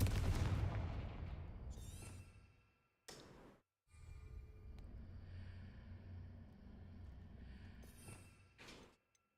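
Confringo fire spell blasts in Hogwarts Legacy gameplay arrive as a loud booming explosion that fades out, followed by two shorter bursts after brief silences, with rumbling effects between them.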